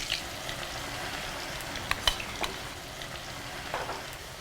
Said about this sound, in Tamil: இந்த எண்ணெய் கொதிக்குதுல்ல